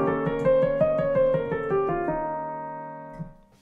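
A Lydian dominant lick with the sharp eleventh accented, played as a quick run of plucked, bright notes that climbs and settles onto a ringing held tone fading out, close and unaccompanied.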